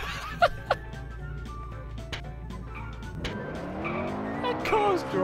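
A car drives in the Garry's Mod video game with a steady engine drone and rising tire squeal, while people talk and laugh over it.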